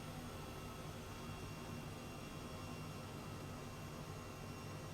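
An Airbus H135 helicopter departs from a hangar area in the MSFS 2020 flight simulator, giving a steady, even whooshing turbine and rotor drone at a fairly low level, with no voices and no change in intensity.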